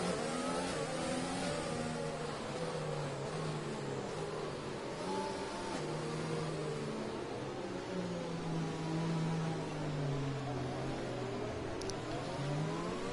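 F1 race cars in a racing video game during a Midwest F1 League multiplayer race, engines droning and revving steadily with shifting pitch as the pack runs together, a continuous loud mechanical whine throughout.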